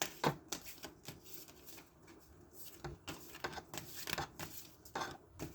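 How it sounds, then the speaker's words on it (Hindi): A deck of cards being shuffled close up, a run of crisp riffling bursts and papery flutters repeating in quick, uneven clusters, with no talking. "let me just shuffle the cards"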